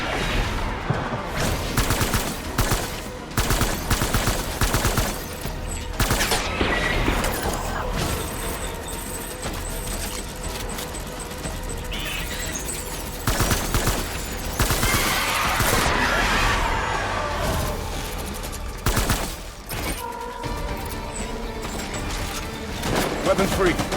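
Rapid bursts of gunfire and heavy booms during a Death Stranding boss fight, dense and loud throughout, with pauses and crashes between volleys and a voice speaking over parts of it.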